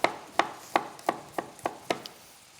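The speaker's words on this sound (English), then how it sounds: "Chopping up a little bit more garlic to go in our Colcannon mix." A knife chops garlic on a cutting board for Colcannon mix in a home kitchen, seven crisp, close, evenly spaced taps with no talk.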